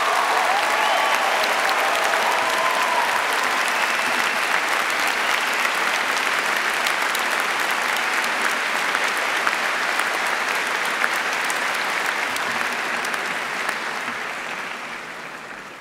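Sustained applause from a large commencement audience for Faculty of Engineering bioengineering graduates, steady and dense throughout before tapering slightly at the end.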